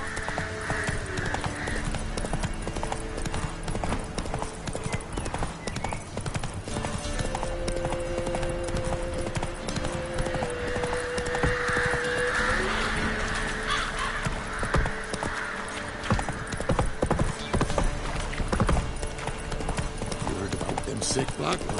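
The horse Roach gallops in The Witcher 3, rapid hoof clip-clops running continuously under game music and ambience, with a character talking over it.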